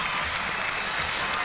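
Basketball crowd at a 1995 CBA semi-final between Frankston and Rockhampton applauds as starters come off the court, a steady wash of clapping from the stands, fairly distant and sustained.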